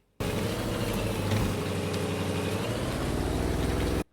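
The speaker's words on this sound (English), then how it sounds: "the Range Rover kind of sounds good though" A Range Rover idles in the Farming Simulator 19 game, its engine holding a steady, even low rumble at close range from start to finish, with no talking.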